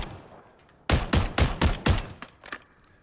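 Five rapid semi-automatic shotgun blasts crack out in a quick, evenly spaced burst, followed by two fainter trailing shots, from a tactical shotgun in Call of Duty Modern Warfare III.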